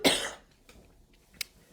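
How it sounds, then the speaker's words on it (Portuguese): A single sharp cough bursts out loud and close at the start, followed by a fainter throat-clearing hack a moment later in an otherwise quiet room. "E agora vão-me perdoar que eu vou ter que tossir."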